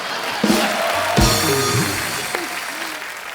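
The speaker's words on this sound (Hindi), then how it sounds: "ठोको ताली" A comedy show studio audience breaks into applause and cheering, rising in short bursts and then fading over a few seconds, with voices talking and laughing over the clapping.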